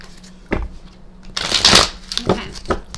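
Tarot cards being shuffled by hand, with a short riffle, then a longer burst of rapid flicking and a few lighter shuffles, close and fairly loud with no talk over it.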